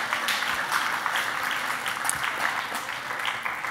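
Steady, enthusiastic applause from a church audience during a televised sermon, many hands clapping densely and evenly throughout with a few brighter claps popping out, no voices on top.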